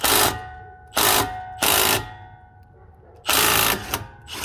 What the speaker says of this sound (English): I'm using this impact wrench, or you can just use a regular wrench